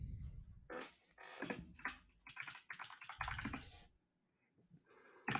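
Quick bursts of keystrokes rattle on a computer keyboard, clustered clicks broken by short pauses and then trailing off into near silence before a final tap.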